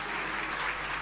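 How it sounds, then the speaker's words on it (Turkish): An audience applauds at a Turkish halay music event, with a dense, steady wash of clapping throughout and no clear voice over it. "çok çok alkışlar istiyorum"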